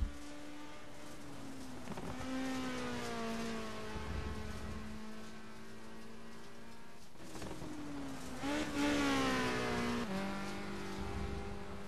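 Race car on a quick lap at Watkins Glen during an ATCC touring car round, its engine droning loud and steady with rising and falling harmonics as it shifts gears and accelerates out of corners, heard on board with no talk.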